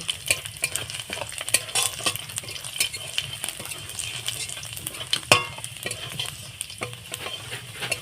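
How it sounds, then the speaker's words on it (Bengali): Chopped garlic sizzles lightly in hot oil in a pan for fried radish greens, a steady close crackle with occasional soft stirring scrapes and clinks. "আমি কয়েকটা রসুন কুচি দিয়ে দিলাম দেখুন এইভাবে আমি একটু হালকা ভেজে নেব"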